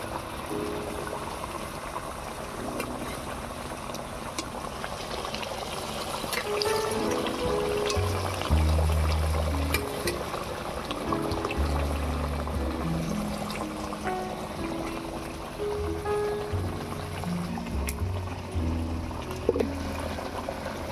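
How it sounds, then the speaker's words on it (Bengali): Mustard-based fish curry gravy at a boil in a pan as fried river fish pieces go in, steady bubbling and liquid gurgling with soft splashes and trickles, close and moderately loud, no speech. "ঝোল ফুটে গিয়েছে, এবারে ভেজে রাখা মাছগুলো দিয়ে দেব।"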